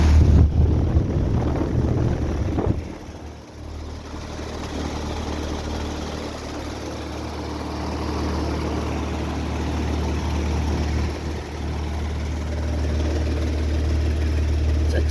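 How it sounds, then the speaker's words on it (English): A 2017 Carrier Sentry 3-ton heat pump runs outdoors with a steady low hum and drone. It is louder at first, dips briefly, then settles into a constant mid-level rumble with no talking. "here is the Carrier running"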